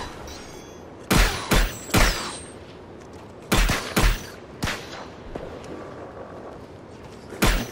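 A heavy assault rifle in the VR shooter Farpoint, fired from the hip in loud separate bursts of two or three shots with short pauses between.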